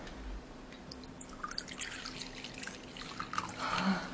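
Cooled boiled water trickles and splashes as it is poured into a cup in a period drama scene, a soft pour that grows slightly louder toward the end.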